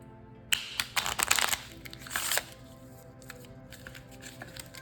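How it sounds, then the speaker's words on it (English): A deck of tarot cards being shuffled close up: a rapid burst of riffling and flicking paper sounds, then a few softer scattered card taps as the sound fades, with no one talking. "we are going to shuffle this deck next, see what else we can learn"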